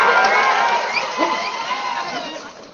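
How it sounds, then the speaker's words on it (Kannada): A large crowd at a community gathering cheers and claps loudly, a burst of whoops and shouting that fades gradually over a few seconds, with voices mixed in. "ಜೋರಾದ ಚಪ್ಪಾಳೆ ಹೊಡೀರಿ"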